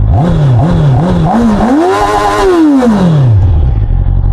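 A 2025 QJMotor RACE 600RS sportbike engine is blipped in several quick, loud revs, then climbs into one long high-rpm scream before falling back to idle, all very close and alone.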